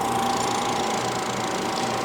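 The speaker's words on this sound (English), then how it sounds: "initialize our vacuum pump" A vacuum pump on a rotary evaporator setup runs with a steady, loud mechanical hum and buzz, continuous and unchanging throughout, with no voices.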